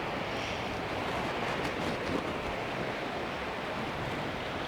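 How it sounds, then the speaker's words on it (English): Gusty wind buffeting outdoors, a continuous broadband rush with brief stronger gusts, no talking. "it's hard when it's windy"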